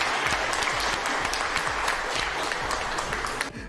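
A crowd claps continuously, dense and fairly loud, before the applause cuts off abruptly near the end.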